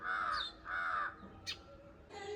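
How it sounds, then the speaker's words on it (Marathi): Crows caw loudly and nearby in two long bursts on an early morning before sunrise, with a sharp bird call between them and another caw starting at the end, in the open outdoors. "हे बघा पक्ष्यांचं किलबिलाट."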